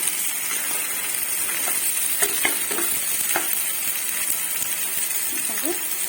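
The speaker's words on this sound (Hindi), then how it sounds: "पियाज और कैप्सिकम टिके भाजी देला पड़े" Onion and capsicum fry in a pan for a veg sandwich filling, giving a steady, dense sizzle throughout with occasional stirring clicks and scrapes close by, and a brief voice faintly underneath near the end.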